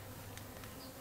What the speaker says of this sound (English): You can see it's covered in bees.